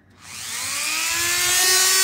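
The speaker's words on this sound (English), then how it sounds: "I'll just begin a bit of the grinding, sanding down" A Dremel rotary tool spins up and whines at high speed, the pitch climbing steadily as it begins grinding and sanding a Titanic wreck model diorama, loud and continuous with no voices.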